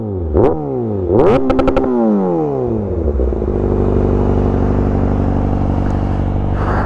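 A 2023 Kawasaki ZX6R sports bike revs hard up close, with sharp rising and falling throttle blips that settle into a loud, steady high-pitched engine drone.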